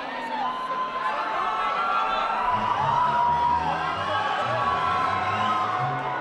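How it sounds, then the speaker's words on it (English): Boxing crowd at an All Star Promotions fight card cheering and roaring in a steady, dense wash of voices with scattered whoops, loud and continuous throughout. "The crowd loving it, though,"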